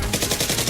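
Toy foam-dart blaster firing in a rapid burst during a Nerf war game, a quick run of sharp, evenly spaced pops lasting under a second, loud and close with no talk.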